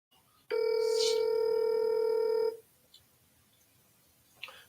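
A telephone tone during real estate cold calls sounds as one loud, steady beep lasting about two seconds, followed by faint line noise and a small click.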